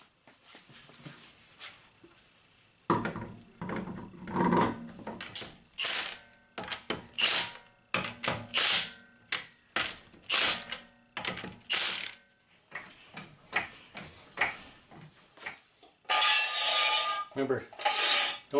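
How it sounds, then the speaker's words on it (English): Wheel going back onto a 2006–2011 Honda Civic during a CV axle job, a close sequence of scraping, clunking and ratcheting metal sounds in irregular bursts with quiet gaps between them. "We'll go ahead and reinstall our wheel."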